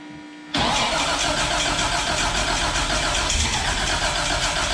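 A Toyota Xtracab pickup's engine cranks and catches abruptly after a brief quiet moment, then settles into a loud, steady, close-up running roar with no speech.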